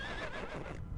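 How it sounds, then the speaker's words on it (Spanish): A horse neighing in one short, high, shaky whinny that fades off within a second, fairly clear with no talk over it. "Ese es un caballo."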